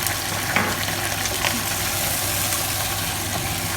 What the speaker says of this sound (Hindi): और इसको हमें करना है 2 से 3 मिनट फ्राई। और इसके साथ में हम डाल देंगे अदरक का पेस्ट